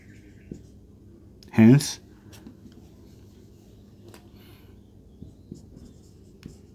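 A pen writes briefly across paper during a Class 10 maths lesson on arithmetic progressions, one short scratchy burst in a quiet room with faint taps around it.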